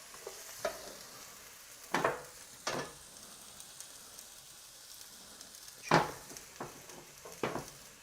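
Onions frying in a pan, a faint low sizzle broken by a few sharp scrapes and stirring clacks spread over several seconds, with no talk.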